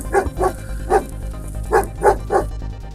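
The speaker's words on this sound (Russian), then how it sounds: "собака подошла вплотную и стала лаять" A dog barks six times in an uneven rhythm at a puma, loud and close, with short gaps between the barks.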